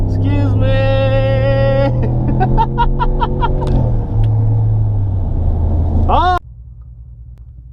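A 2019 RAM 1500 two-wheel-drive pickup launches from a dead stop with its wheels spinning, a loud engine drone rising in pitch to a sharp screech before cutting off, while someone talks and exclaims over it.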